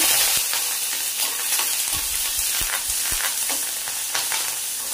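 Curry leaves and asafoetida fry in hot oil while making no-onion, no-garlic methi bhaji, giving a steady crackling sizzle with scattered pops and a few stirring knocks, close and continuous for five seconds.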